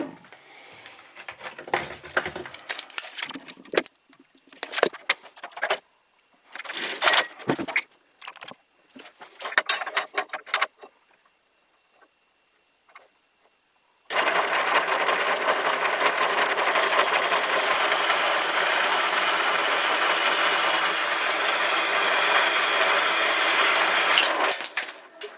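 A cutter snips through steel cable for a simple swage: scattered sharp clicks and short mechanical crunches come close up in bursts, then give way to a steady, loud broadband whir that runs without a break to the end.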